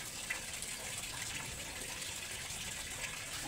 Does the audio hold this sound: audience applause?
no